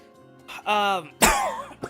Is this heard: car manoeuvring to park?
no